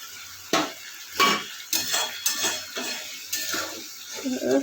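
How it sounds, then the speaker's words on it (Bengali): Poppy seed paste stirred into a tilapia curry in a pan: a run of close, rhythmic spoon scrapes and clinks against the metal, repeating about every half second, with a faint sizzle underneath. "এবার আমি পোস্ত বাটাটা দিয়ে দিচ্ছি।"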